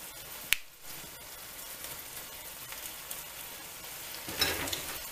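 Saltfish and okra are stirred in a pan, a quiet sizzle broken by a sharp utensil tap early on and a few soft scraping stirs.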